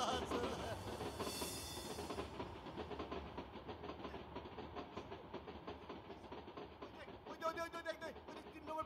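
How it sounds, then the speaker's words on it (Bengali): A train arriving at a platform played as a stage sound effect at a village opera performance, a steady chugging clatter of wheels with a brief hiss early on and faint voices near the end. "প্ল্যাটফর্মে ট্রেন চলে এলো"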